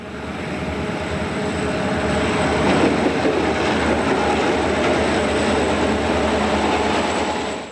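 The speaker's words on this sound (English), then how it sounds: "a southbound freight hammers across the Conrail Diamonds" A loud southbound freight train rolls past close by on the Illinois Central, its wheels pounding rhythmically over the Conrail diamond crossing amid constant heavy rumble.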